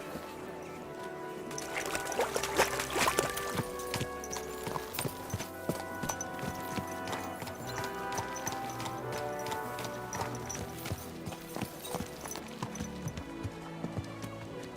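Horse hooves clip-clop steadily on a street in Kingdom Come: Deliverance II, a medieval game, moving at a walking pace and fairly close, over busy market ambience, with a faint whinny, a little trickling water and light murmur in the background.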